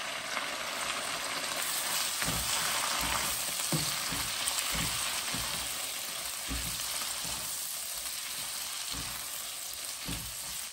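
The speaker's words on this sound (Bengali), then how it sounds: "রসুনটা ব্রাউন কালার হয়ে গেলে আমি চিকেন অ্যাড করব।" Garlic and soy-sauce-marinated chicken fry steadily in a pan for a Chinese-style vegetable dish, giving a continuous loud sizzle with occasional stirring clatter and no talking.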